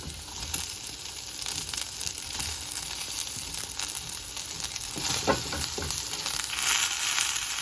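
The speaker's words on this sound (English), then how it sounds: "I love that sizzle sound." Steady sizzling of egg curry ingredients frying in hot oil in a pan, a continuous crackling hiss with occasional louder pops and faint stirring.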